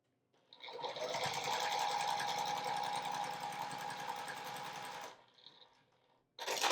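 A sewing machine stitches quilt rows together in one loud, continuous whirring run lasting several seconds, then slows and stops, followed by a brief restart.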